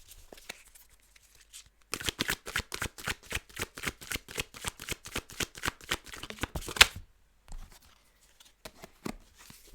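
Tarot cards being riffled and shuffled in a rapid run of crisp, evenly spaced flicks lasting several seconds, close and fairly soft, with quiet handling before and after.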